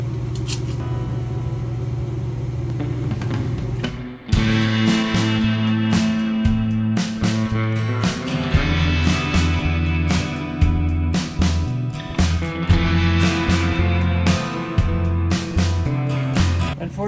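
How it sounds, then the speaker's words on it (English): A furnace hums steadily in a cold garage workshop during a Cherokee-Rambler 4x4 build. Its low drone runs under clanks, taps and sharp metallic workshop noises. "Unfortunately, what you're likely hearing is the furnace."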